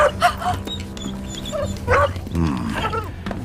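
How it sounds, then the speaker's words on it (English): A pup barks and yips from out back at a frontier homestead in an animated series, a few short sharp barks and whimpers mixed with music and background sounds. "The pup is locked on something out back."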